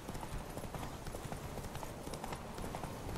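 Hooves of the horse Roach pound steadily at a fast gallop in The Witcher 3 video game, a dense continuous clip-clop rhythm under a loud, noisy game soundscape with no talk.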